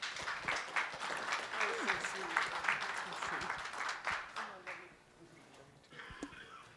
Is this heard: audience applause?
yes